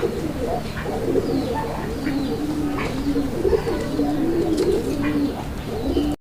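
Desi Raj Golla pigeons coo in a steady, rolling series of low throaty calls, close and fairly loud, with a few faint chirps mixed in and no talking.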